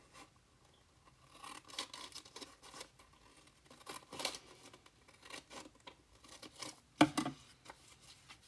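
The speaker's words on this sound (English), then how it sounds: "we can finish them off with the scissors" Scissors snipping paper and card while trimming pieces for a junk journal, a quiet, close series of irregular cuts and rustles with brief pauses between strokes.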